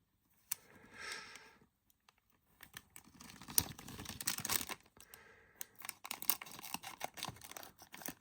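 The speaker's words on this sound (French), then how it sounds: "on va prendre la petite paire de ciseaux" Small scissors snipping a plastic bag open and plastic crinkling up close, a series of sharp irregular cuts and rustles with brief quiet gaps between.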